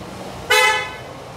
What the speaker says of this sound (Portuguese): Fez aquela modificação na buzina. Deu uma reduzida naquele delay.